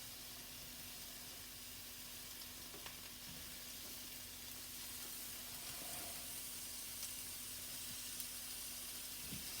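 Food sizzles quietly in a hot pan, a faint steady hiss with occasional soft ticks and pops and no voices.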